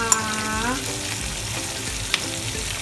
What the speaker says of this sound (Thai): แล้วก็ผัดให้หอมหัวใหญ่สุก